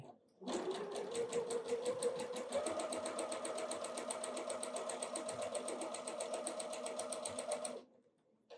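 A sewing machine stitches fabric for a snowman quilt project, starting abruptly and running as a fast, even mechanical chatter for about seven seconds before stopping, close and clear with no talking.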